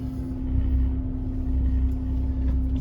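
Porsche 968 engine idling after a cold start in a garage, a steady low rumble with a constant hum, close and fairly loud, with no talking.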